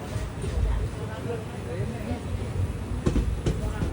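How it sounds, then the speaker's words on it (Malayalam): A passenger train pulls into Mandapam railway station with a continuous low rumble and rattle nearby, a couple of sharp clanks near the end, and a voice speaking over the noise. "ട്രെയിൻ ഇതാ മണ്ഡപം റെയിൽവേ സ്റ്റേഷനിലേക്ക് എത്തുകയാണ്"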